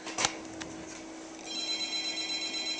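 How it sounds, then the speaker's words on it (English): A telephone rings in a quiet room beside a Nintendo DS Wheel of Fortune game, with a short click and a faint tone before a steady electronic ring takes over in the second half. "Oh, phone call."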